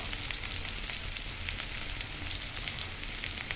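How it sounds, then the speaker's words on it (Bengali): Cauliflower pakoras fry in hot oil with a constant, dense sizzle and fine crackle, steady and close, with no voices. "লাল লাল করে 10 মিনিট ধরে আমি ভাজবো এগুলোকে, আর 5 মিনিট ভাজলেই হয়ে যাবে ফুলকপির পকোড়া"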